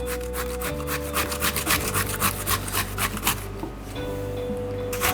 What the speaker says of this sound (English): And now we're just going to grate them.